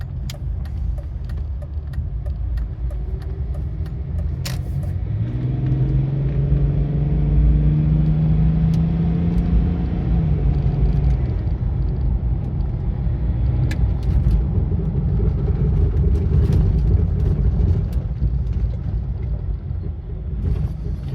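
A 2004 Range Rover L322 with the TD6 diesel engine drives along, producing a steady low engine and road rumble that swells as it accelerates and then holds a constant cruising drone. The sound is loud and close, with no talking.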